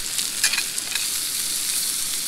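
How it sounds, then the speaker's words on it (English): Rice and Frank's Red Hot stirred in a hot pan, a steady close sizzle with scraping strokes of a utensil through it, alone with no talk. "then we'll go ahead and stir that all together"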